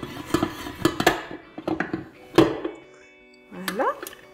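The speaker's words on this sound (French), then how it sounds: "Et on va mélanger une première fois. Une seconde fois. Vraiment mélanger." Vegan brioche dough being mixed by hand in a bowl, giving a run of close, uneven knocks and scrapes against the bowl, with a short tonal squeak near the end.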